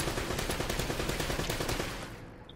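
Rapid automatic enemy gunfire in Uncharted: Drake's Fortune rattles loud and close as a dense, even burst, then cuts off and fades near the end.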